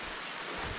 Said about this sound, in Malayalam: മഴ ചെറുതായിട്ട് പെയ്യുന്നുണ്ട്.